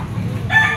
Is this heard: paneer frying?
no